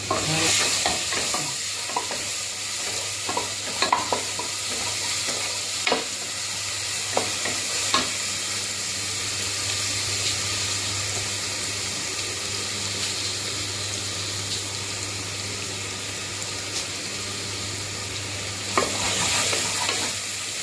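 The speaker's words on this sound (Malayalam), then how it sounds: "രണ്ട് കരിയാപ്പില ഇട്ടു. ഇളക്കി കുറച്ച് വഴറ്റിയെടുക്കണം." Curry leaves sizzle in hot oil in a pan while being stirred for a quick chickpea curry, with a steady close frying hiss and occasional scraping taps of the spoon throughout.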